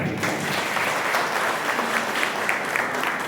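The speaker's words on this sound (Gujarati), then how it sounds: "એના માટે ખરેખર જોરદાર તાળી" Audience at a charity event for disabled children breaking into loud, continuous applause, a dense wash of clapping lasting the whole moment with a faint crowd murmur.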